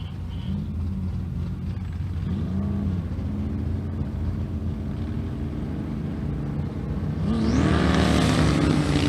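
A bagger motorcycle races a Honda Magna in a drag run, a steady engine rumble from a distance that swells into a louder rising roar near the end.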